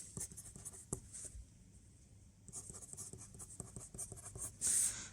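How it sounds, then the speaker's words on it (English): A pen scratches steadily across paper while an equation is written out by hand for a homework problem, with rapid strokes and small taps close up, no talk. "write out the equation"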